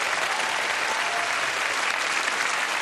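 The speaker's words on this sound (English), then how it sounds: "Everyone give Dave a round of applause as he joins us on the stage." A crowd at a televised magic show applauds as a volunteer walks onto the stage, an even, continuous wash of clapping heard alone throughout.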